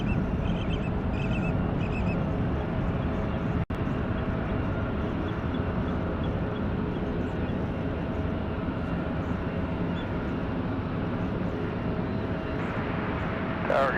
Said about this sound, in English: what a gorgeous takeoff